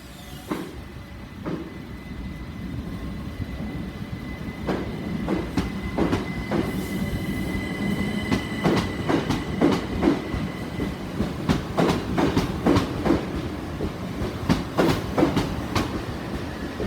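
Class 377 electric train departing Eastbourne station for London Victoria, wheels clicking rhythmically over rail joints as it pulls away, a steady low rumble with faint squeals, heard from the platform.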